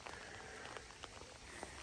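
Rain falling on an open farm field after days of wet weather, a soft, steady hiss of patter with faint scattered drops, quiet and continuous throughout.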